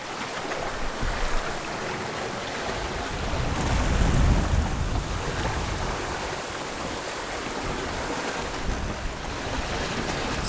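Rough Atlantic Ocean waves of around five meters wash and roar around a sailing boat at sea, a continuous broad rush that swells louder midway, with wind buffeting the microphone and no voices.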